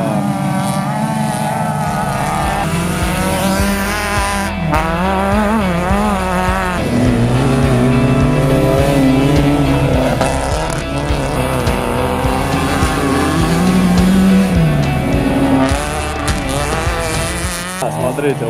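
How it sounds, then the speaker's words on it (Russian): Ural sidecar motorcycles roaring at the start of a winter motocross race, many engines revving hard together in a loud, dense, wavering drone that swells and surges throughout. "Взревели моторы, и они поперли."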